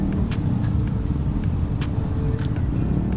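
Congested road traffic in a jam on Jalan Arianata Manggala at the start of the year, with a dense, continuous rumble of nearby engines and scattered faint clicks and ticks, heard steadily and fairly loud.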